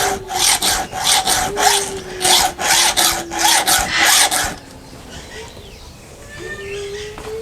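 A hand file rasps back and forth across a chainsaw chain in quick, even strokes, loud and close with a faint whine beneath, roughly a dozen strokes before it stops and quiet background remains.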